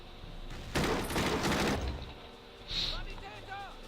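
Gunfire in the WWII turn-based strategy game Battle Academy: a dense burst of rapid shots about a second long, loud and close, followed by fainter pops and chirpy game effects, with a voice talking over it.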